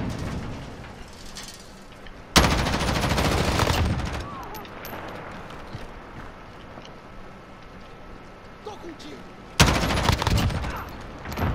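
Bursts of M4 rifle fire in Call of Duty: Modern Warfare, loud rapid automatic volleys around two and a half to four seconds and again near ten seconds, with quieter ambient battle noise and scattered softer shots between.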